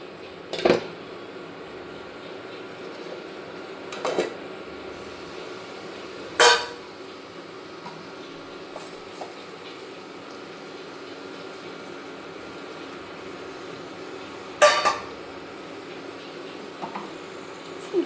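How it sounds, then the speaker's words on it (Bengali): Cauliflower and potatoes being stirred in a cooking pan, with a few sharp utensil scrapes and clinks against the pan scattered over a steady low background hum. "এবার আমরা এটাকে একটু নাড়াচাড়া করব কিছুক্ষণ, ওই 5 থেকে 7 মিনিট মতো আমরা একটু নাড়াচাড়া করব জিনিসটা"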